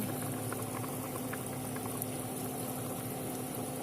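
A pot of water at a full rolling boil, a steady, dense bubbling roar heard close up and continuous throughout with no speech.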